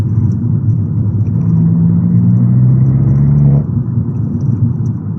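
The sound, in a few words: sports car exhaust while driving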